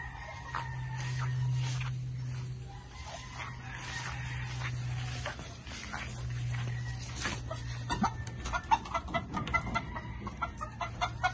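A young rooster clucking among farm chickens near a small shed, intermittent close clucks over a low steady hum, with sharper bursts toward the end.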